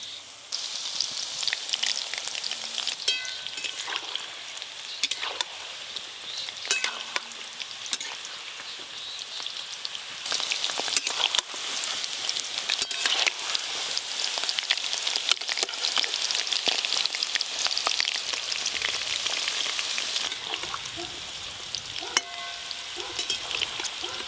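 Chicken pieces, cut thin for pepper chicken, frying in hot oil with a steady dense sizzle and crackle that runs the whole time, close and fairly loud, with occasional stirring and no talking.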